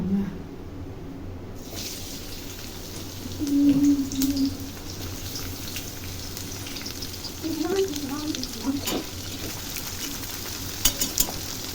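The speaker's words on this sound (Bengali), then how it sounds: "এগুলো আমি পেঁয়াজগুলো ভালো করে ভেজে নিলাম এটাকে যাকে বলে বেরেস্তা" Sliced onions fry in oil in a wok until browned, a steady low sizzle with intermittent stirring clinks and scrapes, some louder tossing moments partway through.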